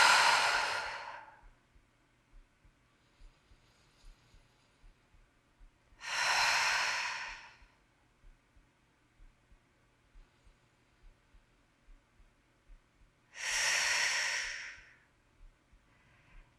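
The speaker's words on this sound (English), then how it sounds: "We're just going to take 3 deep breaths here." Three slow, deep breaths in through the nose and out through the mouth, each a soft airy exhale spaced several seconds apart, close and quiet in a calm setting.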